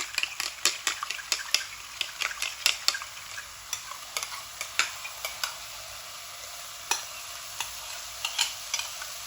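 Bitter gourd masala frying in a pan, with a steady sizzle under repeated sharp clinks and scrapes of a spoon stirring against the metal, close and moderately loud, with no talking.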